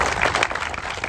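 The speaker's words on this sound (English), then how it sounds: "take a moment to have a round of applause to celebrate Rosa Parks' birthday today" A crowd at a Transit Equity Day gathering gives a dense wash of applause that is steady and moderately loud, with no clear separate claps, in honor of Rosa Parks' birthday.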